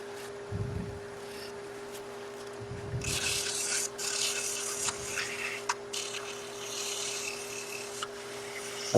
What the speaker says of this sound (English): I can use my thumb as a steady rest so I can push the sandpaper against it and less chance of breaking it